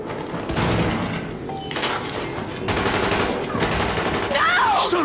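Rapid gunfire bursts in The Division, a few loud automatic volleys punctuating a tense scene as voices shout over the shooting.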